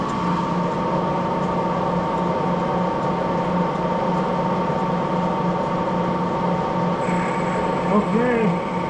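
A Moore jig borer fitted with a Criterion S2 boring head cuts scrap aluminum, giving a loud, steady mechanical drone with a constant tonal hum. A faint higher whine joins near the end, and a voice is heard under it.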